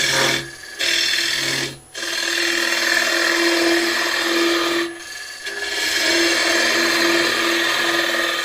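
A bowl gouge cutting wood on a lathe, using the wing of the tool, gives a loud, close, continuous scraping whir with a steady tonal hum, broken by two short pauses as the tool lifts away.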